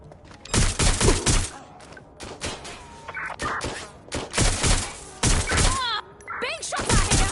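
Bursts of gunfire crack and rattle in Watch Dogs Legion, several loud close volleys separated by short gaps, with radio-style voice chatter heard between the shots.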